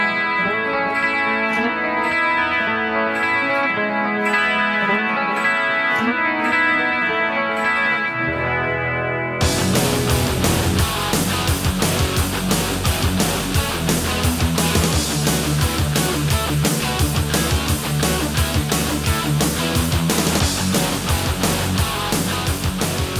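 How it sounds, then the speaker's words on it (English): A clean electric guitar played through an Emperor Chorus Open 2 effect in an 80s glam metal style, starting with sustained shimmering chords, then shifting abruptly to a louder, busier strummed passage with a rhythmic, wavering chorus sheen. "the last chorus I'm going to give you was going to be the Emperor Chorus Open 2"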